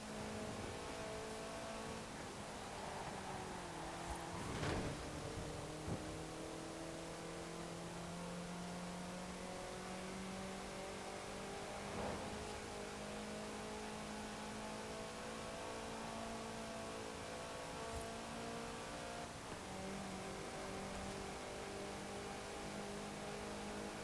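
A 2013 Toyota GT86 in Forza Horizon 4 idles and revs, its engine note climbing and dropping in a few rising sweeps over a steady background hum, moderately loud with no voices.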